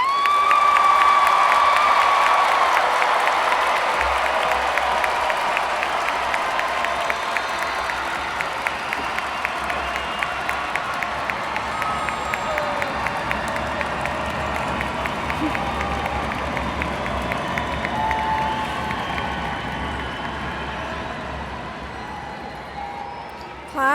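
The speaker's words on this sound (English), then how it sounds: "I'm going to ask for a round of applause for all our 2026 graduates" A large crowd applauds and cheers for the 2026 graduates at the Brennan High School graduation ceremony, with dense steady clapping and scattered shouts that hold for the whole stretch and fade slightly at the end.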